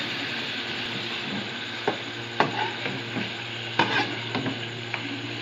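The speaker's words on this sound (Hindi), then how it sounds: "इसको हम अच्छी तरह मिक्स कर दें।" A spoon stirs chicken haleem masala with packaged haleem mix and yogurt in a pan over a steady sizzle, with scattered scraping clinks against the metal.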